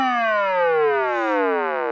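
Siren of the world's smallest firetruck, switched on from the cab: a steady electronic wail sliding slowly downward in pitch, loud and close, running alone without any talk.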